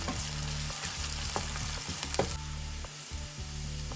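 Green chillies and curry leaves sizzle and crackle steadily in hot oil for a Tamil sundakkai poriyal, close and continuous with no talking.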